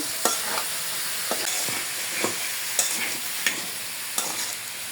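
Broccoli and shrimp with green chilies are stir-fried, giving a moderate background sizzle broken by sharp, regular utensil clacks and scrapes against the pan about every second.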